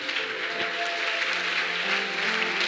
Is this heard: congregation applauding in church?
yes